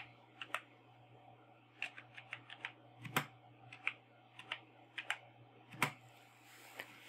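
Typing on a computer keyboard while using Windows 11: scattered clicky keystrokes, single taps and short bursts, close and moderately quiet over a steady low hum, with no voices.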